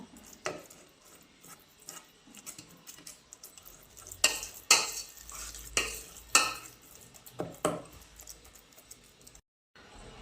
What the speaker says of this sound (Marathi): आपल्याला पळीच्या साह्याने छान अशी घोटून घ्यायची